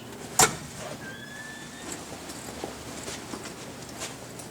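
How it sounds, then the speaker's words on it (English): One sharp, loud thud as a door swings shut near the start, followed by a quiet room with faint shuffling and a brief high squeak. "You can just let the door"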